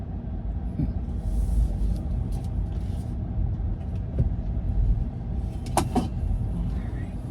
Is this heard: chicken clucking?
no